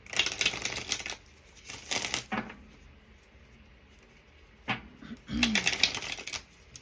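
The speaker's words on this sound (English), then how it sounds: "we're gonna shuffle some more" Several bursts of rapid riffling and flicking as a deck of cards is shuffled, separated by quiet pauses, close to the listener.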